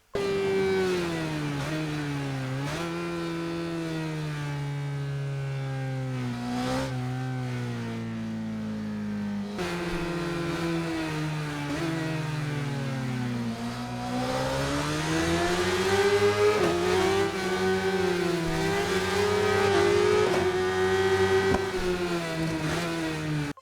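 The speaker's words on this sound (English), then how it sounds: "The sound of the bike accelerating in the straightaway or idling as you slow down around a curve" A motorcycle engine in the video game Ride 5 revs and accelerates continuously, pitch rising and falling through gear shifts, loud and close, with no voices.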